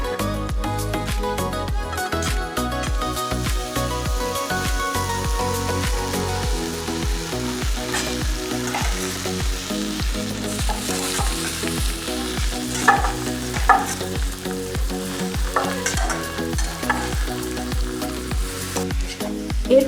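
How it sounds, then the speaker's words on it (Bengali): Marinated jackfruit with cut potatoes fries in a wok, producing a loud continuous sizzle mixed with repeated scraping and stirring strokes throughout, over faint tonal background music. "এরপর ম্যারিনেট করা এঁচড়টাকে কড়াইয়ের মধ্যে দিয়ে দেব।"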